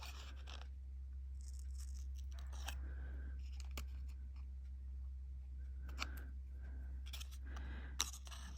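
Scissors fussy cutting a card tag, a series of short crisp snips and scratchy cuts spaced irregularly, faint and close over a steady low hum, no talking.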